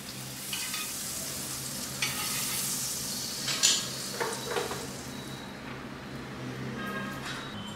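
Butter sizzling and frying on a hot tawa while sandwich bread is prepared, a steady close crackle with stirring and a few scraping clatters of a utensil, no talking.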